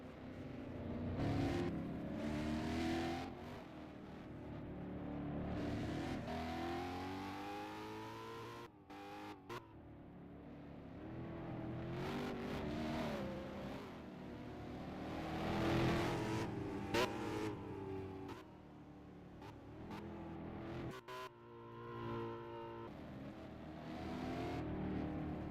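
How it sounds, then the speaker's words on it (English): Toyota Camry pace car engine in a racing video game, droning and revving steadily as it rises and falls through gear changes, with brief cut-outs and renewed acceleration over a continuous loud whir. "And that's the Toyota Camry pace car driven by T7 Jake."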